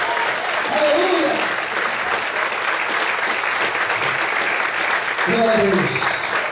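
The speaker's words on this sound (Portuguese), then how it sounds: "vamos aplaudir e exaltar o Senhor essa noite" Church congregation applauding during a worship service, a dense sustained wash of clapping from many hands filling the room, with voices calling out over it at the start and again near the end.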